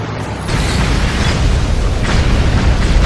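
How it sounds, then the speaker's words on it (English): An incendiary round explodes in Ninja Gaiden III, a loud booming blast that swells into a sustained roaring rumble with no voices. "That's an incendiary round. It'll burn the whole area."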